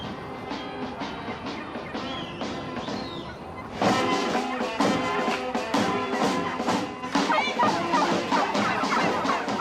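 Turkeys on a farm in a Pas-de-Calais village call in a dense chorus of clucks and gobbles, growing louder partway through, with some voices mixed in.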